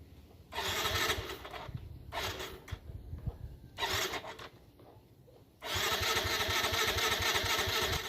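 A Yamaha Mio i125 scooter engine, stored unused for five years, cranks in several bursts, sputtering briefly each time without catching, with pauses between attempts before a longer final crank.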